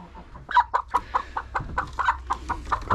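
Chickens cluck in a steady series of short, close calls at a rural backyard coop, with a faint voice briefly in the background.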